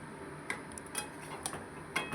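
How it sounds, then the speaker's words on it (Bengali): A utensil scraping and tapping in a pan as mutton is sautéed with salt and turmeric, a handful of light metallic clinks spaced apart over a faint background, quiet and close, no talking. "দিয়ে এটাকে ভালো করে আমি কষিয়ে নিচ্ছি"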